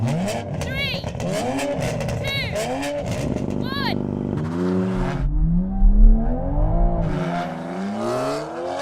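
A Toyota Supra and a BMW M4 launch in a drag race. Engines rev up through rising and falling gear sweeps, then a deep rumble swells. Tires spin as the cars pull away, and someone talks over the noise.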